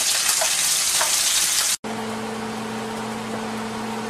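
Food sizzles and melts in a frying pan while stuffing mix is being prepared, a steady broadband hiss that stops abruptly, then resumes more softly with a low steady hum underneath.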